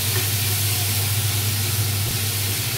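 Tomatoes sautéing in a pan for ampalaya with egg, a steady broadband sizzle with a low hum beneath, continuous and even throughout with no talking.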